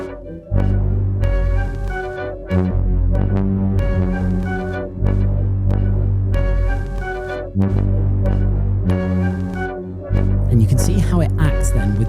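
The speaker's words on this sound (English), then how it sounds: "I found this FM saw type of instrument now to use as a bass" A buzzy FM synth saw bass plays a sequence of loud, sustained notes, each change sharp and distinct, with other instruments layered above it.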